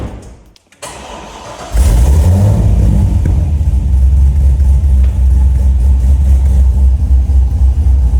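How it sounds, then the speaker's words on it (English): Corvette C6 Z06 with a cammed LS engine: brief quiet rustle, then the engine fires and settles into a loud, deep, steady lumpy idle close by. "We're gonna give you a little sound check because the car sounds so good idling."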